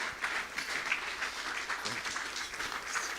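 An audience at an inaugural lecture applauds as the professor comes up to the stage, producing a steady, moderately distant wash of clapping that lasts the whole stretch.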